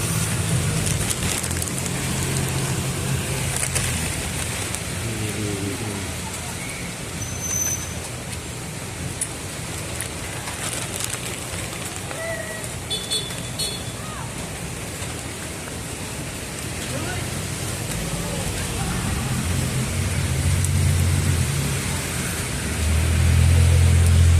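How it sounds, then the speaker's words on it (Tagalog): Steady heavy rain pours throughout, a dense broadband hiss with low rumble, as a car or engine idles nearby and swells louder near the end; no one speaks. "Lakas pa rin ang ulan"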